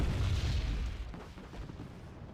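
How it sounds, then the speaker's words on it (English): Artillery shells land in the strategy game Wargame Red Dragon, a heavy low rumbling boom that opens loud and rolls on, fading slightly into a lingering distant roar. "Artillery coming in."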